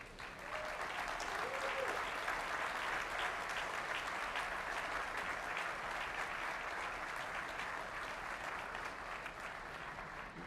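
Steady applause from a gathered audience at a NASA event on the James Webb Space Telescope, a long, even stretch of many hands clapping at moderate distance without pause.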